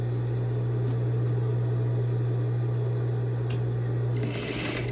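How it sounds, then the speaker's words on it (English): A sewing machine stitching bias strips of fabric along a diagonal seam with back stitching, a loud steady mechanical hum and whir running close and continuously, then shifting briefly at the end. "I'm stitching and back stitching at the beginning and end of my seam."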